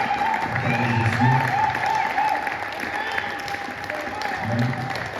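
A church congregation at Sunday worship claps steadily in a sustained wash of applause while a voice speaks over it.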